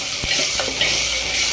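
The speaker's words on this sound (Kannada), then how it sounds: "ಈರುಳ್ಳಿ ಟೊಮೆಟೊನ ಸ್ವಲ್ಪ ಕುದಿಸ್ತೀನಿ." Onion and tomato frying in a pan while being stirred, a steady close sizzle with a few scraping stirs of the spoon near the start, no voices.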